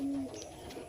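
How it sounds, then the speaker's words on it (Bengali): Low, soft cooing from pigeons being released at a low-flyer tournament in Nabadwip, a brief steady burble close by. "এই রানা ইলয়দা পায়রা ছাড়ছে"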